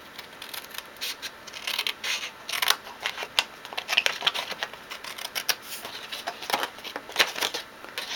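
Scissors cut along a scored line on a craft tissue pack holder, giving a close, steady run of crisp snipping clicks at an irregular rhythm with no talking.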